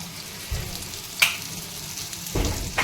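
Kebabs fry in a pan with a steady close sizzle, broken by a couple of louder spatters and bursts as pieces are turned over.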